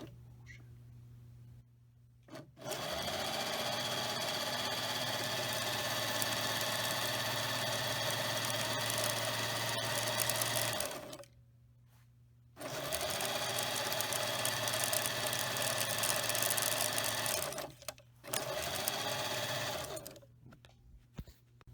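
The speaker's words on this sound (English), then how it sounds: "So our bobbin is wound with what we hope is enough thread." A sewing machine winds thread onto a bobbin, a steady close mechanical whir running in long stretches with brief stops between runs, during work on a DIY boat stern seat rebuild.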